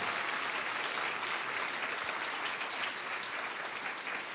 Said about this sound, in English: a big Earthkeeper round of applause for Dr. Samir Osmanagich